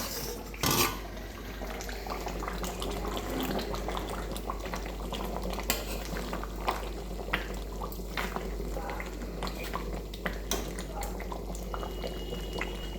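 Meat curry with potatoes bubbling in a pot on a home stove, a steady low simmer with soft popping, one brief clatter near the start.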